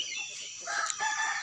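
A rooster crows in the early morning as a woman prepares to feed her chickens, the crow rising briefly and moderately loud over a steady outdoor background hiss, with faint clucking hinted around it.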